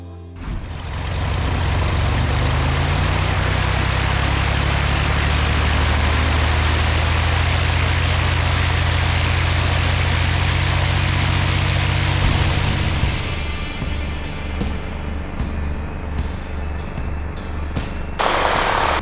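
A private propeller airplane's engine runs loud and steady before a flight, with a deep, constant drone that shifts in tone partway through.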